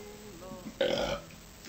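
A single close, loud burp rises abruptly out of quiet room tone and lasts about half a second before fading.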